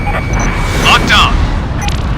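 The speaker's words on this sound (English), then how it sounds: "Missile launched." In the Ace Combat Infinity air-combat game, a missile launches with a loud whooshing roar over a constant jet engine rumble, while a radio voice speaks over it.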